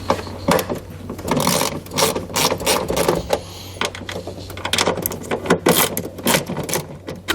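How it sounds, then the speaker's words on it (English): A socket ratchet loosening the bolts that hold a taillight on, making rapid bursts of loud, close clicking separated by short pauses, repeated many times. "We're going to take the same socket, we're going to remove the two bolts that are holding our taillight in place"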